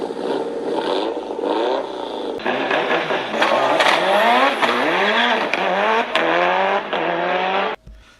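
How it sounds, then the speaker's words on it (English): Souped-up Mitsubishi Eclipse engine revving hard and racing off, loud rising pitch sweeps through several gear changes with a whirring drivetrain, up close and continuous, ending abruptly. "Their leader, Jay, starts up the engine and takes off."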